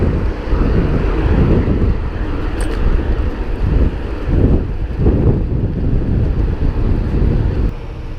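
Steady wind buffeting a microphone during a morning bicycle commute on a London road near Tooting, a loud continuous low rumble with gusty surges throughout and no talk.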